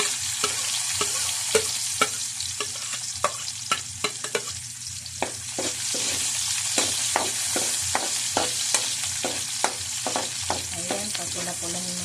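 Onions sizzle and fry in a pan for adobong tahong, a steady crackling hiss with frequent sharp clicks of stirring throughout, close and alone with no talk.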